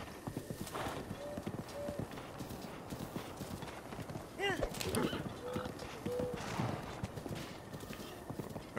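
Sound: horse hooves clip-clopping in the video game Breath of the Wild

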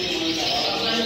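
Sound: small black songbird, copper mosaic variety, chirping

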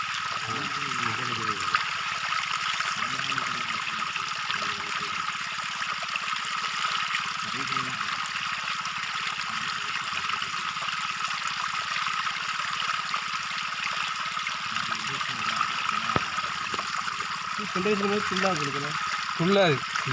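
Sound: flowing water

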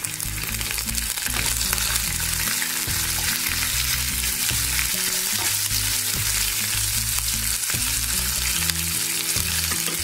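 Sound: green chili pieces frying in a pan

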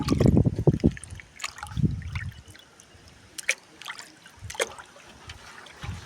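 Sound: mixing oil cake fertilizer solution in water

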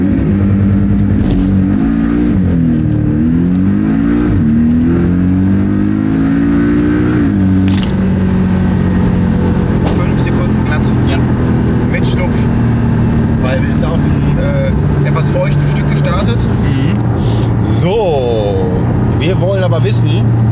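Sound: Porsche 718 Cayman S accelerating on the motorway

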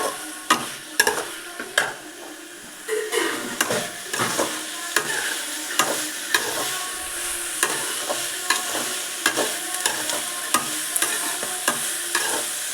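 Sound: sautéing garlic in a pan, stirring

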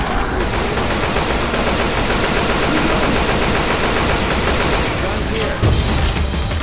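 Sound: gunfire in a video game

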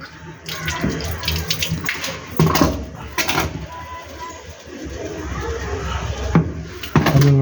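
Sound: water poured into a water can

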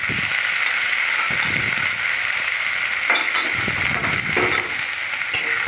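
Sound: ginger and green chilli paste frying in oil, stirred

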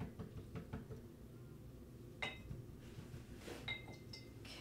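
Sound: paintbrush being rinsed in a water cup

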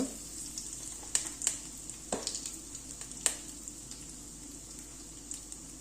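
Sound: curry leaves and asafoetida sizzling in hot oil

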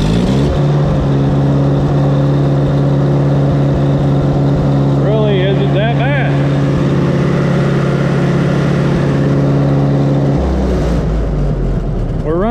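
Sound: 1955 International 300 tractor engine running at high idle

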